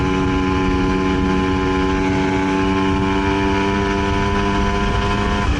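A Honda NSR SP 150 motorcycle rides along the road from Setiabudi to Lembang in Bandung, its engine a loud, continuous drone with steady harmonic tones and no voices.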